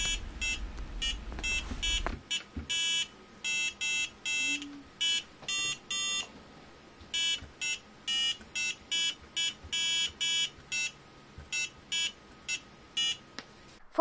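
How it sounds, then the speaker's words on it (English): An electronic buzzer from a Makeblock Neuron Explorer Kit beeps out a sequence of short tones in a simple tune, with brief pauses between groups of notes, clear and alone. "We've programmed each member of the band to play a note."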